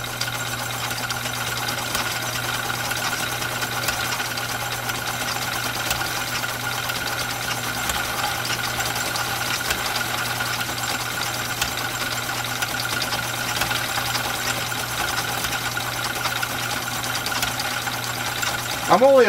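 A Husqvarna Viking 2000 sewing machine runs at about a quarter of its speed on decorative stitches, a steady humming motor drone with fine mechanical chatter, close and constant, with a short clatter at the end.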